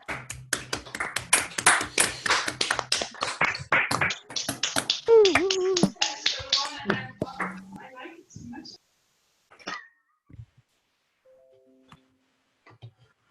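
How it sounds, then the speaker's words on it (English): Scattered, uneven claps and taps from an online audience clapping into unmuted microphones, bunched in the first few seconds, then thinning out into isolated taps as voices briefly speak. "Let's all unmute our microphones and give Vince a round of applause for a great talk."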